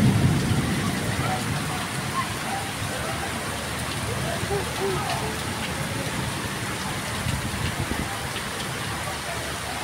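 Heavy rain pours steadily during a thunderstorm while people play ball outdoors in the wet, a dense, loud, continuous hiss and patter close by, with no distinct thunderclap standing out.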